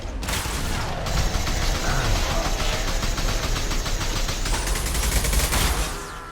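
Heavy, rapid gunfire from a high-impact shot in Mass Effect 2, a loud sustained volley of crackling reports with mechanical clatter, running steadily for several seconds with no talk.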